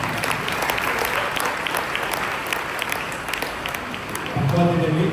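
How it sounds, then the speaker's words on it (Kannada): Dense, steady audience applause fills a music concert hall at Sri Rama Mandira in Bangalore, sustained throughout, with a voice rising over the clapping near the end. "ನೀವು ನೋಡಿದರೆ ಒಂದು ಚಪ್ಪಾಳೆ ಹೊಡೆಯಿರಿ"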